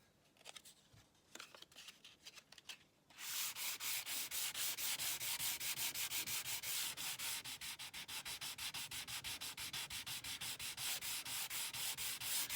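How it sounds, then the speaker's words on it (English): A quiet rubbing start, then steady rhythmic back-and-forth sanding strokes of fine 320 grit sandpaper on fretwork, close and continuous with no talking. "the first type of sandpaper that I'm using is a 320 grit"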